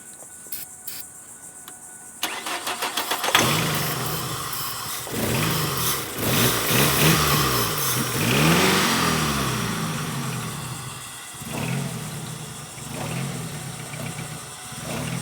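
A Ford Focus with a fuel pump fault cranks briefly, then its engine catches and revs up before settling into a rough, loud idle with fluctuating speed.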